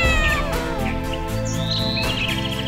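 A pet cat meows over a bed of music, with a few short mews and chirpy high calls spread across the moment, fairly close and clear.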